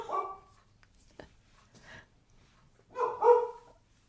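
A dog gives a few short, close barks: one at the start, a couple of softer yips in the middle, then a louder double bark near the end, with quiet gaps between.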